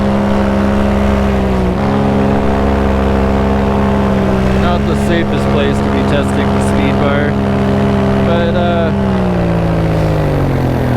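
A paramotor engine drones loud and constant in flight under an Ozone Alpina 3 paraglider wing, its harmonic buzz shifting slightly in pitch, with brief wind bursts partway through.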